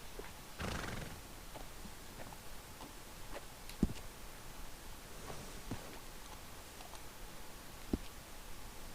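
A horse in the Red Dead Redemption 2 video game gives a loud whinny early on, followed by scattered hoof clops and small clicks over a steady ambient background.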